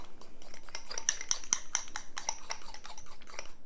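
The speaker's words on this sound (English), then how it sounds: "All we're gonna do to dress up the cream is to put some vanilla, a little sprinkling of vanilla, and then just kind of stir it." A spoon stirs vanilla into whipped cream in a bowl, making quick, light clinking and scraping taps in a steady rhythm, close and fairly quiet.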